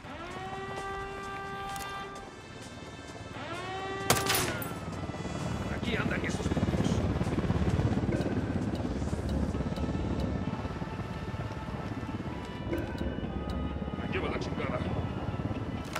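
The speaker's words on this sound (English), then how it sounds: "Helicopter incoming." Helicopter in the video game Ghost Recon Wildlands approaching during a firefight, a steady broadband rotor rumble running through the whole stretch, with sharp gunshot bursts and voices over it.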